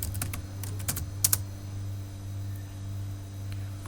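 A command typed into MSWLogo on a computer keyboard: a quick run of close key clicks over a constant low electrical hum, then quieter isolated taps.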